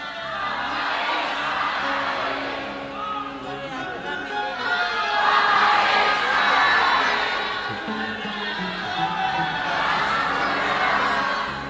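A large devotional audience at an outdoor Shiv Mahapuran katha claps in sustained waves, swelling and easing over several seconds, with crowd murmur and faint voices mixed in.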